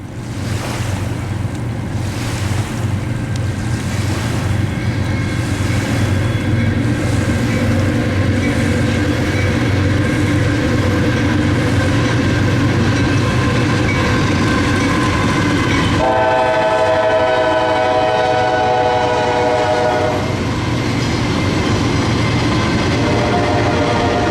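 A Norfolk Southern freight train led by a gray-painted GE AC44C6M locomotive rumbles past loudly and steadily at a rail diamond crossing, with a sustained horn blast sounding over the roar partway through.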